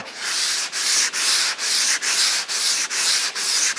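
Steady back-and-forth rubbing of sandpaper on body filler on a car, light even strokes by hand in a regular rhythm, close up with no talking.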